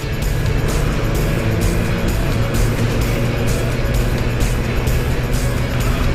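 A car engine drones steadily in the background, a continuous low rumble with wind-like noise on top, no voices.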